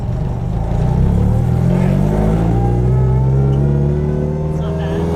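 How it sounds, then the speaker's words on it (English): A loud car with a sequential transmission pulls away from a stop and accelerates, its engine drone steady and close with rising tones throughout. "As per our usual vehicles, this car is very loud, and the transmission does not help"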